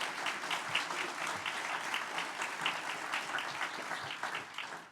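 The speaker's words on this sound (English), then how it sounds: "Let's give them all a great round of applause." Sustained crowd applause fills a room at a State of the City event, dense and steady clapping for nearly five seconds with no speech over it.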